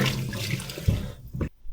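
Tap water splashing into a sink while fish is washed and drained in a kitchen, close and steady, broken by a few handling knocks and a short quiet gap near the end, with no talking.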